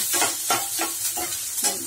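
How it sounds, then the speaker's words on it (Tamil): Onions sautéing for an avarakkai poriyal: a sizzling pan with a spoon stirring in several rhythmic scraping strokes, close and steady, with no talking. "வெங்காயம் நல்லா வதங்கட்டும்"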